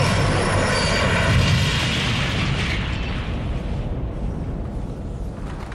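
High-speed ICE 884 train derailing and crashing into a road bridge at Eschede, a loud rushing roar like a plane crash that swells and slowly dies away, no voices.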